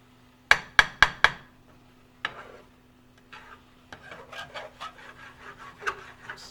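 A utensil scrapes and knocks in a pan while breakfast burrito fillings cook: four sharp taps open, then intermittent rasping scrapes build into a busier stretch of rubbing, close by, over a low steady hum.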